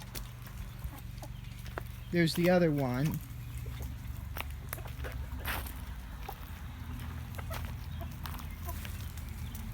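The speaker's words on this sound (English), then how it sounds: "Hamburg chickens are very small, and they lay white eggs." A single small Hamburg hen's drawn-out cluck rises briefly amid quiet outdoor background noise, with a person speaking softly nearby.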